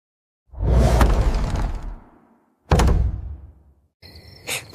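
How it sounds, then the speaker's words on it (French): Knocking on the wooden door of a house in a children's Three Little Pigs tale, heard as a loud heavy thud, then a second knock after a pause, and a brief ringing tone at the end. "À peine celui-ci eut-il refermé la porte que le loup frappa."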